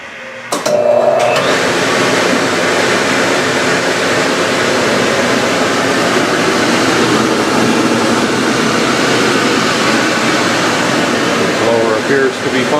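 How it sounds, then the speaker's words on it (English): A boiler starting its pre-fire sequence as the damper opens and the blower runs, giving a steady loud rushing whoosh that starts abruptly and holds evenly throughout, with a faint click at the start. "that sound means that we are getting ready to fire the boiler."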